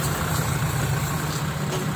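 A tractor engine idles at a fuel station with a steady, low, droning rumble that stays constant and close throughout.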